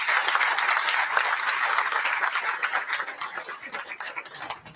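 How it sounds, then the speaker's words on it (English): Crowd clapping for UPS at a local leaders' event at a new hangar site, a lively burst of applause from a moderate audience that stays strong and then slowly thins out. "Let's give a big round of applause to UPS for all four of these programs."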